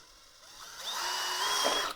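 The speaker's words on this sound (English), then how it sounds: "We just want to take our drill and put whatever bit I can fit into it to make a hole" A power drill bores a hole through a bucket lid resting on cardboard over carpet, its close motor whine climbing in pitch and holding steady and loud for about two seconds.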